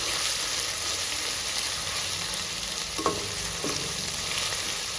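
Tempering sizzles loudly and continuously in hot oil as ginger garlic paste goes in for a brinjal curry, with a couple of faint spoon scrapes against the pan partway through and no speech.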